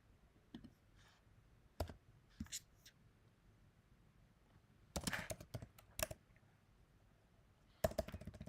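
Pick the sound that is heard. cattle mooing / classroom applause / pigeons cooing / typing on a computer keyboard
typing on a computer keyboard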